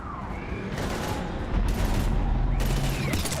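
Gunfire from the video game Mass Effect 3 crackles in dense, sustained bursts with booming hits in a heavy firefight, loud and continuous throughout.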